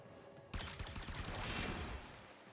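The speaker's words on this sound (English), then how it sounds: "being a decent assault rifle, you can see that we're just sort of melting through everything" A Supra Vandal assault rifle firing in the Warframe video game, a sustained rapid burst of shots starting abruptly and running for about two seconds, loud and alone.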